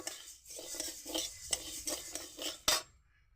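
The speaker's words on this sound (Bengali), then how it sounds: "জলটা নিগড়িয়ে কড়াইতে এরকম নেড়ে ছেড়ে শুকনো খোলায় ভেজে নেব" Mung dal dry-roasts in a wok with no oil after being drained of water, and a utensil stirs it in quick, repeated scrapes and clinks, close and fairly quiet, with a sharp clank near the end before silence.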